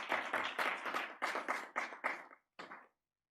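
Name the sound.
audience applause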